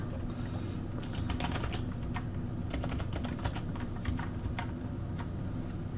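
Keys clack steadily on a computer keyboard as a command is typed at a Windows server for PowerShell setup, a close run of quick taps and short bursts over a low background hum.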